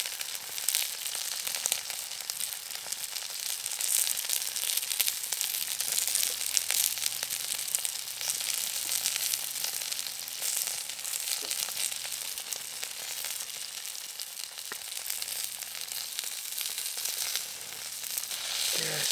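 Steady, crackling sizzle of full English breakfast food frying in hot oil on a Trangia camping stove, continuous and close, with faint low tonal hum underneath and no talking.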